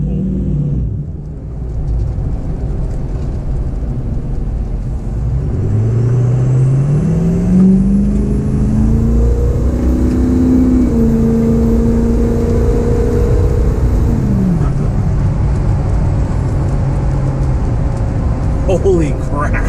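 A 6.0 Powerstroke diesel truck accelerates hard, its engine note rising steadily over a deep rumble and a high turbo whistle, then easing off, loud and close throughout.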